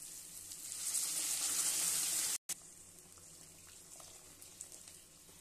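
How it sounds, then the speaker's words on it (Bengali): Hot water pours into a pan of fried spices, a loud rushing hiss for about two seconds that cuts off abruptly, followed by a quieter simmering sizzle. "এখন আমি জল দিয়ে দিই,"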